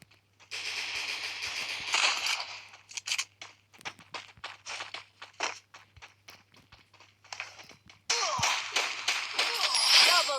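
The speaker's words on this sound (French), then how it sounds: "C'est surtout lui, je pense, qui me tire dessus depuis tout à l'heure pour les têtes." Rapid gunfire bursts from an enemy shooting in the mobile battle royale game Free Fire, repeated sharp cracks in quick succession with dense rattling stretches at the start and end, fairly loud and close.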